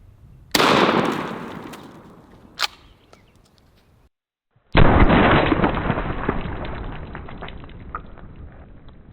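Two loud shotgun blasts of double-aught buckshot fired at a ballistic dummy, each a sharp close report followed by a decaying echo, with a brief silent gap between them.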